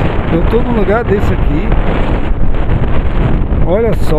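Strong wind by the sea, with a lagoon nearby, buffets the microphone in a loud, continuous roar and rumble while a person talks over it throughout.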